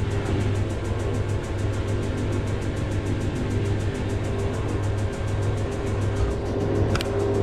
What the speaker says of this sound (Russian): Машинка пошла на отжим.